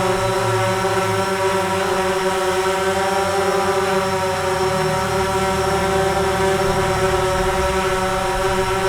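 A DJI Phantom 4 quadcopter hovers and tries to land at a park, its propellers giving a steady, loud, close buzzing whine with layered tones that stays constant throughout.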